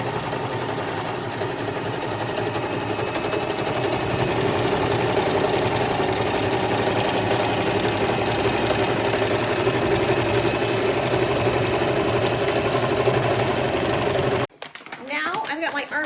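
A sewing machine runs a short back stitch along a bag seam, a steady mechanical whir with rapid needle ticking that continues unbroken for about fourteen seconds before stopping abruptly.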